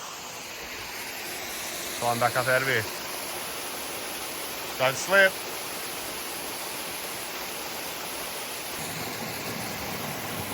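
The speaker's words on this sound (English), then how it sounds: "A couple little drops, a little cascade at the top, runs down this way." Water rushes down a small cascade in a rainforest creek, a constant broadband roar heard close up, with a voice speaking briefly over it twice.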